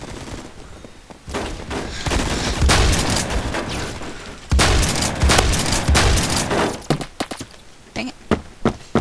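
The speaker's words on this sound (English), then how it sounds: "I got a suppressor for my shotgun now" Suppressed shotgun fire in Roblox Phantom Forces, with dense bursts of muffled gunfire and cracks in two long volleys, then scattered single shots trailing off.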